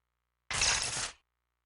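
A short burst of crashing noise, the 'Crash into the Broadcast Seat' effect from the wrestling game Fire Pro Wrestling World, lasts under a second and cuts off cleanly, sounding bright and harsh like clattering impact.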